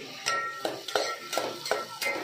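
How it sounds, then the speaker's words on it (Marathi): Spice masala is roasted and stirred in a pan with a utensil, giving about six sharp scraping clinks at an even rhythm, close and fairly quiet, with no talking. "इथं आता मसाला आता भाजायला ठेवला आहे."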